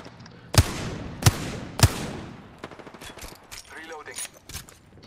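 Apex Legends R99 submachine gun fire: three sharp, loud bursts in quick succession, followed by quieter distant shots and game effects, with faint talk in the background.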